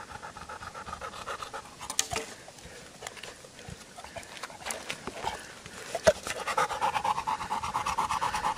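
A dog pants rapidly and steadily up close after a six-kilometre walk, short rhythmic breaths continuing with scattered light taps and rustles.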